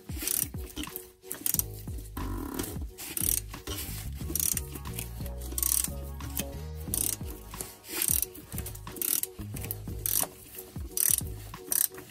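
Ratchet wrench with an extension working underneath a Porsche Cayman during an oil and filter change, giving steady rapid clicking pawl ticks close up, continuing with short pauses over about twelve seconds, with no talking.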